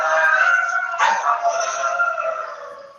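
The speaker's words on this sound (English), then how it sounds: "My dogs are going nuts here." Several dogs bark and howl close by in a steady, agitated chorus that keeps going for the whole stretch, with a sharper burst of noise partway through.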